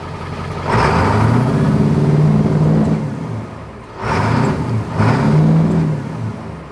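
A car with a power problem cranking and firing up, followed by two rising and falling revs of the engine, close and loud with no talk.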